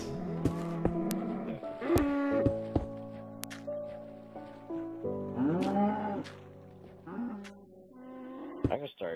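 Cows low in a survival video game on an island map, several drawn-out moos overlapping with other game sounds at steady volume, and no voices over them.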